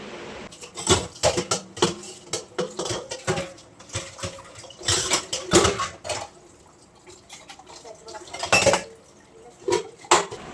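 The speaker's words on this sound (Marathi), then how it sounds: "आता बघा इथे एवढी भांडी घासायची आहेत" Pots, pans and cutlery being scrubbed and washed by hand, with repeated close clinks and clatters of metal against metal in an irregular rhythm, and a few drips of water between knocks.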